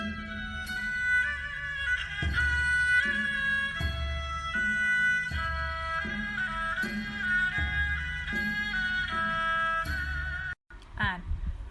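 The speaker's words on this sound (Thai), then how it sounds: "คือเสียงซอด้วงนะคะ" A Thai so duang fiddle plays a steady, bright bowed melody of sustained notes, with a low repeating accompaniment beneath; the music cuts off abruptly near the end.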